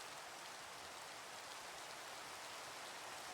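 Steady, hissing Minecraft rain falls evenly and softly throughout, a constant quiet wash of drops with no other sounds or voices.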